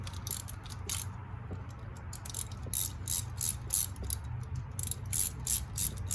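A ratchet tightens the fuel injector bolts on a 2014 GMC Sierra, a steady run of close, crisp clicks in short bursts over a low engine-bay hum, with no talking.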